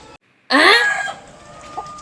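A white kelso gamecock crows loudly and close by, a single long rising-then-falling call that trails off into quieter background noise.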